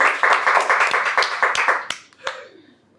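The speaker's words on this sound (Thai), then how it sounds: "ขอเสียงปรบมือต้อนรับ" An audience at a Thai comedy roast show claps to welcome a comedian, a brisk burst of close, crisp applause lasting about two seconds before trailing into a few scattered final claps.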